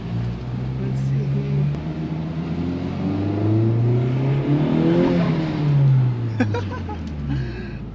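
A 2020 Honda Civic Type R engine revs up and down while driving, a loud, steady drone rising and falling in pitch with a brief higher rev near the end, close and continuous throughout.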